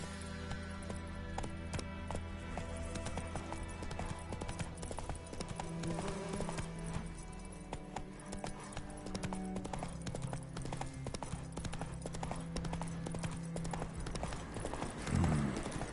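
A horse gallops in The Witcher III video game, a steady rapid clip-clop of hooves running continuously over a low game ambience, close and even throughout.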